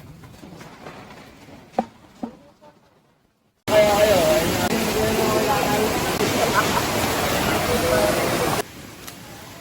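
Rushing river water at the second river crossing on the trail up Mt. Diawang in North Central Luzon, a loud, steady broadband roar that starts abruptly and runs alone for about five seconds, with quieter talk and footsteps before it.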